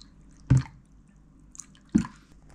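Two short splashy pours of water into a stir-fry sauce with oyster sauce, about a second and a half apart, each a brief wet burst against a quiet background.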